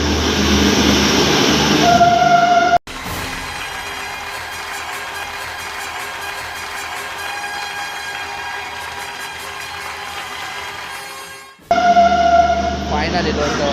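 A train at Surat railway station rumbles steadily past at close range, a loud sustained roar with rail clatter and tonal hum, bracketed by louder platform noise at the start and end.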